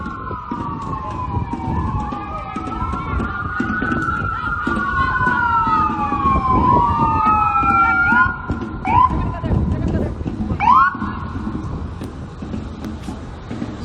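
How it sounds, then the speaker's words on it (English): A wailing emergency siren sweeps up and down, loud and close, over steady traffic rumble, with sharp yelping bursts toward the end as it passes. "Let the ambulance through."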